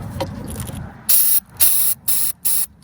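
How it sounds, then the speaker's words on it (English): Four short, loud bursts of aerosol spray from a can of Freeze Off penetrating lubricant, each about a third of a second, with brief pauses between them, following some soft handling noise, on a Ford Ranger upper heater hose fitting. "right there I'm going to spray some freeze off or WD-40"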